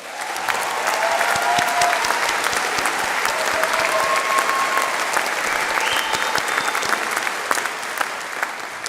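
An audience at a university graduation ceremony gives sustained, warm applause for musicians from the Royal Birmingham Conservatoire. The clapping is dense and steady throughout, with faint crowd murmur and a few scattered voices beneath it.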